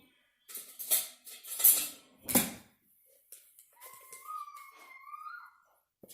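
A spoon being fetched, with metal cutlery clinking and rattling in a few sharp bursts before quieter handling sounds and a faint high tone.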